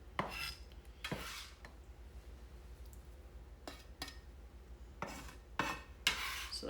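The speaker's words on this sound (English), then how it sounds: "I'm gonna give it another rough chop, make the pieces a little smaller." Knife rough-chopping salsa vegetables on a cutting board, with quiet scattered bursts of chopping and scraping strokes in irregular clusters. The knife is close but soft, and no one speaks.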